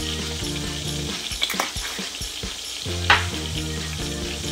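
Thinly pressed garlic and hot pepper sizzle in a hot pan over medium heat, a steady crackling hiss running throughout with a few brief clinks and stirring bumps, and no talking.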